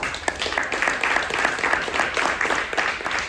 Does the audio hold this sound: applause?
yes